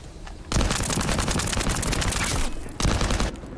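Loud, close bursts of rapid gunfire in a first-person shooter game, a sustained volley of about two seconds, a short gap, then another burst.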